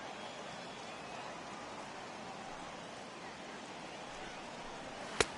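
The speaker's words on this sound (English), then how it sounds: "the rain starting to intensify here. It's coming down a little heavier now." Steady heavy rain pours across a ballpark in MLB The Show 18 during a Giants versus Braves game, a dense even hiss throughout, ending with a brief sharp click.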